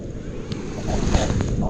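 Surf washes onto the sand at Ocean Reef Park in Riviera Beach, Florida, a loud continuous rushing wash mixed with heavy wind buffeting the microphone.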